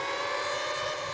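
A sustained siren sample of the kind used in Anjunadeep-style electronic music holds a steady, dense tone with no break, loud and alone.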